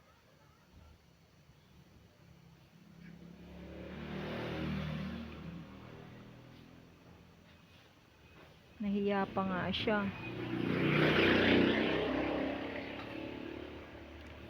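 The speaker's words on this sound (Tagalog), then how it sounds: "Ang ingay ng mga motor siguro mare-record sa voice over." Motorcycle engines revving and passing near a busy outdoor food park, swelling loud twice over a steady background din while people talk nearby.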